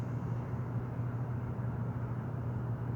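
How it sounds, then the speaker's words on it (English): Distant airplane passing far overhead, a low steady rumbling drone that stays faint and even throughout, with no voices. "Airplane's coming or a car."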